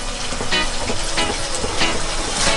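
Catfish pieces fry in red curry paste in a hot wok, giving a loud continuous sizzle with a few stirring scrapes and no voices.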